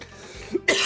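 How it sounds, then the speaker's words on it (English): A short cough from a person after laughing, one quick harsh burst near the end following a brief throaty sound, close and fairly loud. "laughing too much makes me cough"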